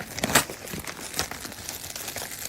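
A sample packet of sanitary pads is torn open by hand, with a few close, soft plastic crinkles and rustles in short bursts, no voices.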